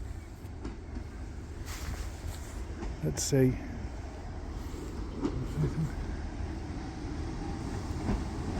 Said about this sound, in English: So here comes our little 2-coach Northern train